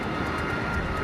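A-10 attack jet in flight, a loud, continuous engine roar that stays steady and close throughout the brief moment, with no voices.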